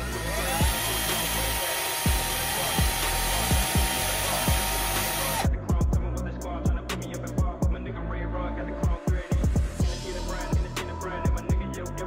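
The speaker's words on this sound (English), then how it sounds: "by putting them into a drill, and then taking some Scotch Brite, and this is how I'm getting the carbon off" A drill spins engine valves from a BMW N54 against Scotch-Brite pads to scrub off carbon, a loud continuous whirring grind that breaks into short, intermittent bursts of spinning and scraping in the second half.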